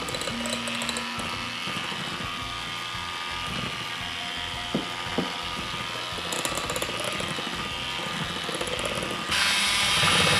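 Electric mixer beating ube macapuno pie filling with butter, a buzzing motor whine over rattling and clattering against the bowl, steady throughout and louder near the end.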